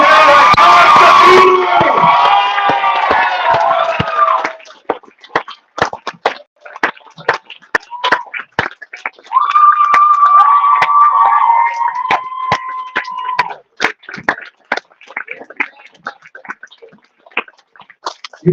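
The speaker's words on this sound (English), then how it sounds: "Stand up and welcome, please, a big round of applause for Damien Leone," A convention crowd cheers and applauds loudly for a few seconds at a horror fan event, then the noise drops to scattered claps and whoops, with a second swell of sustained cheering midway before fading into more sporadic clapping.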